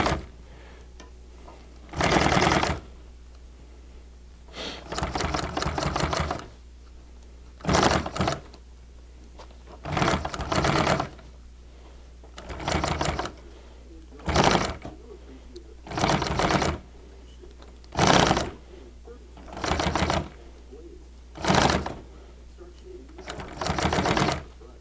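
A sewing machine stitches acrylic binding in about a dozen short, evenly spaced bursts of rapid mechanical chatter, each lasting a second or two, separated by quiet pauses, close and moderately loud.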